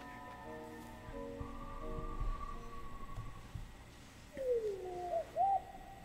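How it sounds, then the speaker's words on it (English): A bird calls like an owl: a gliding, falling wail followed by a couple of short hooting notes near the end, after a stretch of faint sustained tones and quiet rustling. "Oh, it's a bird."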